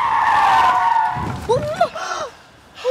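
A car brakes hard with tires skidding, a loud squealing screech that fades over about a second, followed by shouting voices.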